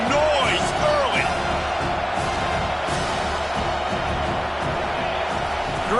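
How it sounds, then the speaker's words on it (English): Stadium crowd noise in an American football video game: a steady roar of cheering fans with whoops and whistles rising over it, loud and continuous, with a voice talking over the top. "This crowd bringing the energy and noise early"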